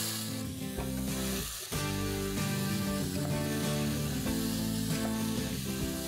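Tomatoes and finely chopped green chilies sizzle with golden-brown sautéed onions in a pan, a steady close hiss and crackle running throughout with a brief dip early on, no voices.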